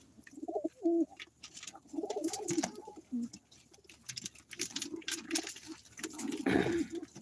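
Pigeons on a small hobby farm give soft, repeated rolling coos in short bursts, fairly close, with a faint clink near the end.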